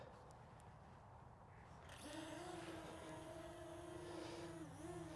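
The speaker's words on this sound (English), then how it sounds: "let's go ahead and let's do an automated takeoff" A Potensic Atom SE drone lifts off in an automated takeoff as its rotors spin up into a steady, rising whine over faint outdoor background noise, close by and holding steady with a slight wobble in pitch.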